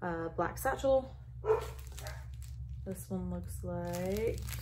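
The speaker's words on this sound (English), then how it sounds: "There go the dogs." Dogs bark a few times in the background of a room while someone speaks over them, the barks moderate and partly masked by her voice.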